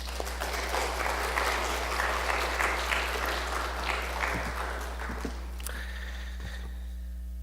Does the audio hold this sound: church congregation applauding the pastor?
yes